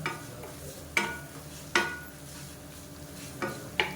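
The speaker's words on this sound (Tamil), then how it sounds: "அமர்த்திட்டு அந்த சூட்லேயே வதக்கி விட்டுறேன்" Ingredients sautéed in a hot pan on a turned-down gas flame while making idli batter, with a spoon stirring in sharp scraping strokes about four times over a soft, steady sizzle.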